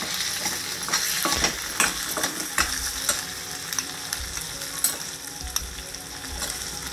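Stuffed ridge gourds being placed one by one into a hot pan, with a steady loud frying sizzle and occasional clinks and scrapes of handling, no talk.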